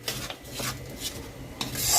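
A spoon scrapes and stirs ground tomato paste into spices in a pan, producing a few soft rasping strokes with a faint sizzle underneath.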